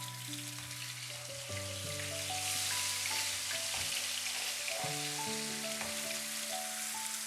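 Garlic ginger paste and spices sizzle steadily in a pan, with a continuous close frying hiss and occasional stirring; musical tones run underneath throughout.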